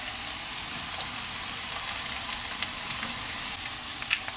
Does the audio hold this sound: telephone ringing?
no